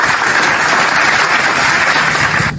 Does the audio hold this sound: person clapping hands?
yes